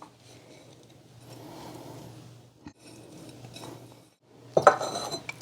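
Spoon stirring about two cups of brown sugar into panjiri in a pot: soft scraping and rubbing in two stretches with a short pause, then a sharper clink of utensil on the dish near the end, close and quiet with no talk.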